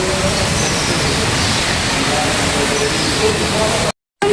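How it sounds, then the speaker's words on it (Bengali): Heavy rain pours down in Bankura, a loud, dense, unbroken roar of falling water that fills the scene, with a brief dropout near the end. "তুমুল বৃষ্টি হচ্ছে"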